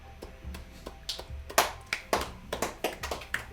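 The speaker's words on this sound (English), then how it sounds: "Round of applause." Players around a tabletop role-playing session clap together, a sparse, fairly quiet run of hand claps at a steady uneven rhythm, picked up close and without talk over it.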